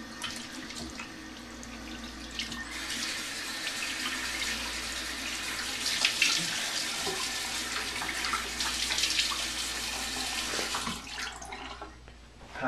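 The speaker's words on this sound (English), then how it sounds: "what you want to do after the shave is to rinse your face with cold water" Cold tap water running into a sink while rinsing the face after a shave, a steady close rushing flow with splashing that cuts off just before the end.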